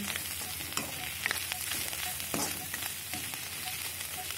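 Spices frying in a pan, a dense steady sizzle with scattered clicks and scrapes of stirring throughout, close and alone without any voices.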